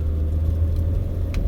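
Manual-transmission car pulling away in first gear at a stop, a brief loud engine hum close by with steady low rumble as throttle is applied.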